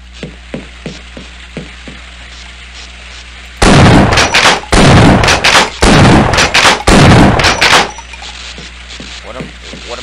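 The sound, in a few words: pistol gunfire in Half-Life video game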